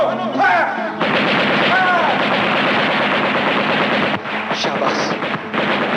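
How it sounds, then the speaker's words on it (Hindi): Dense, continuous gunfire from soldiers' rifles and machine guns in a dramatic film battle scene, loud rapid bursts filling the whole stretch, with brief shouted voices at the start and a short lull near the end. "फायर! जवानों, फायर!"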